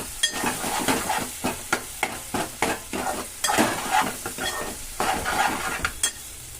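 Spicy chicken curry stirred in a sizzling pan: repeated rhythmic scraping strokes of a spoon over a constant frying crackle, close up and without talk.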